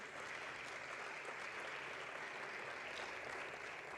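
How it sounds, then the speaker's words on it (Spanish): Audience applause welcoming guests at a panel discussion, a steady even wash of clapping, fairly faint and distant in a large room. "Recibámoslo con un aplauso."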